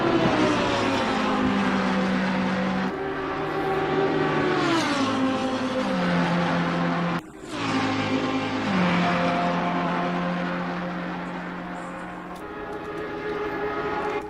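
A 1967 Lamborghini race car in an online racing game screams along a straight, its engine pitch rising and falling through gear changes, with a brief sharp cut partway before loud, sustained revving resumes.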